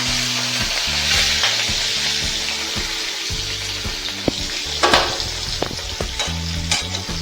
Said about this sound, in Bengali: এবার এখানে তেল গরম হয়ে গেছে, এবার মাছগুলো আমি স্যালো ফ্রাই করে নেবো